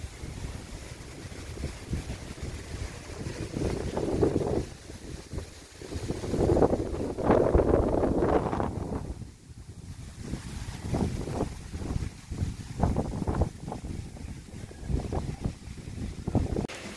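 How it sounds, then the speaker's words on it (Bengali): Strong wind in a riverside village, roaring and gusting steadily as it buffets the microphone, rising and falling in surges over about seventeen seconds with no speech. "দেখেন খালি কি পরিমাণ বাতাস।"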